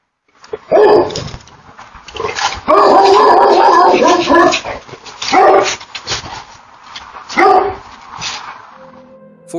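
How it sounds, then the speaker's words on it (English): A dog barks loudly at an intruder in a yard at night, repeated bursts of close, sharp barking and yips with some howling, rising and falling across the scene with brief pauses between volleys. "the vigilant dog begins to bark loudly and chases after the intruder"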